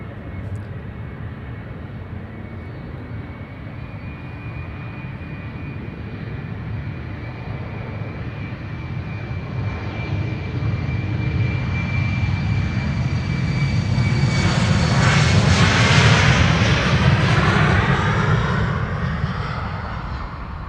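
A KLM Cityhopper jet, 11 years old, departs Amsterdam Schiphol for Leeds: a distant whining jet drone swells into a loud, close roar as it passes, then fades slightly, with no voices.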